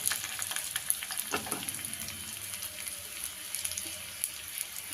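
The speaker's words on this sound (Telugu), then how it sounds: "మనకి వెల్లిమిర్చి కూడా మనకు ఫ్రై అయిపోయింది" Onions and six green chillies frying in a pan over medium heat for spinach dal, a constant bright sizzle broken by occasional stirring scrapes, heard up close with no voices.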